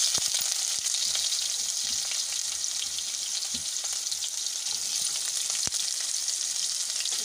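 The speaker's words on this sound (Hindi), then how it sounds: "अब इसमें हम डालेंगे प्याज" Onions frying in hot oil with green chillies for chathail sabzi, a steady close sizzle with faint crackles throughout and no talking.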